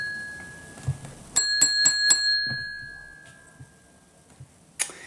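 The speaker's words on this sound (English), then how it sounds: "I press it, go, you've got a bell" A bell pressed by hand rings four quick, bright dings in a row, close and clear, followed by a lingering ring, with a couple of soft knocks around it.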